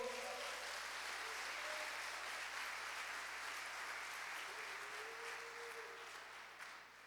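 A large church congregation claps continuously and loudly throughout, a sustained wash of applause that tapers slightly toward the end.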